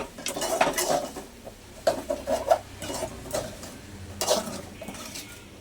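Spoon stirring coriander powder into eggplant curry in a metal pan, repeated close scraping and clinking strokes in irregular bursts, with no voice heard.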